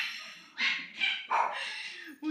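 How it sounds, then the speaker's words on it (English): Several dogs bark and yip playfully in quick bursts, with some whimpering between barks, fairly close. "we can hear the dogs."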